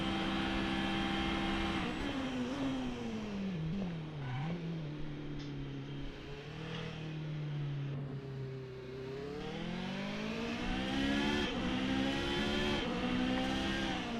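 Race car engine from a racing video game, revving up and down through gear changes on track, loud and continuous with rising and falling pitch sweeps and no talk.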